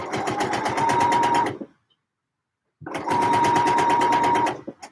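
A sewing machine stitching trousers runs in two loud, steady bursts of rapid mechanical chatter, separated by about a second of silence, with a sustained whirring hum under the rhythmic needle strikes.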